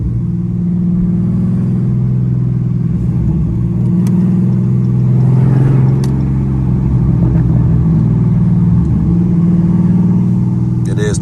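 A cammed Dodge SRT Scat Pack engine booms steadily from inside the car during an aggressive track-mode drive. It revs hard with brief shift breaks, loud and continuous throughout.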